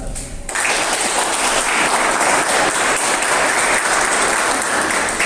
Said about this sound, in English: So I think the entire team need a round of applause.